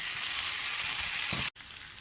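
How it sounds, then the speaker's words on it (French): Braised chicken with chopped chili simmers in a pan, giving a steady close sizzling hiss that cuts out briefly near the end and then resumes. "Et on peut laisser mijoter."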